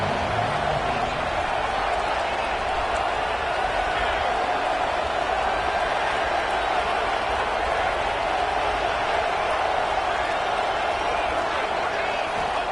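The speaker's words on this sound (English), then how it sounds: "Crowd getting this defense whipped up on third down." A football stadium crowd roars steadily on third down as fans whip up the defense, a dense continuous wall of cheering and noise throughout, with an announcer's voice faintly over it.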